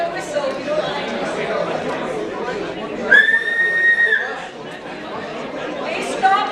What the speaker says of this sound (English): I'm going to blow a whistle.